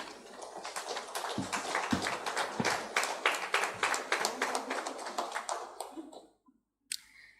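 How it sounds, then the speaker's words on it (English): A conference audience at a memento presentation claps together, a crisp mid-sized round of hands that rises, holds, then tapers off into near silence before one last stray sound. "Can we have a round of applause,"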